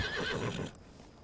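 A horse in Red Dead Redemption 2 gives a short, close, loud neigh that fades out, with a faint clop at the very end.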